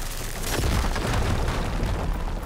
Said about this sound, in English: One explosion coming up.